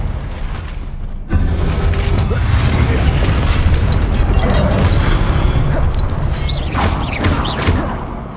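A Confringo spell explodes in the Hogwarts Legacy video game, a loud booming blast that starts abruptly after a moment of quieter sound and then rumbles on, dense and sustained, with crackling bursts layered through it.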